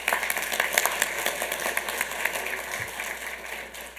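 Applause from the audience at a Santa Ana city council meeting: steady, fairly distant clapping from many hands, alone with no talk, fading slightly toward the end.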